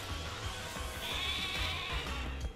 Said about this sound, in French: le retour du mouton